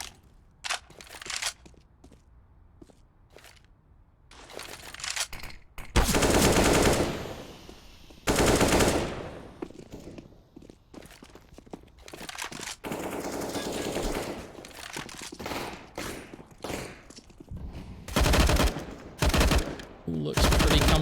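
AK-47 gunfire in Counter-Strike on the Overpass map: rapid automatic bursts and single shots crackle repeatedly, loud and close, alongside other game noises and commentator speech.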